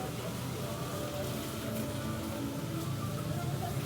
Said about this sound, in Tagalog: So, umuulan. Yan o, umuulan.